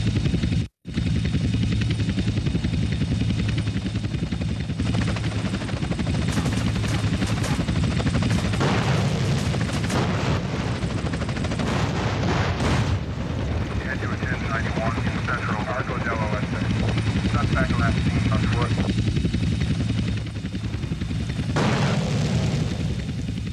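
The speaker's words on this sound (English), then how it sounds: "Two agency choppers coming in on an intercept." Agency helicopters approach on an intercept in GTA San Andreas, a constant loud rotor drone filling the scene with bursts of gunfire and voices talking over it.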